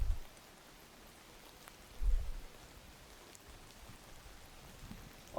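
Faint, steady hiss of distant rain, soft and static-like, with a couple of low thumps at the start and around the two-second mark, and no voices.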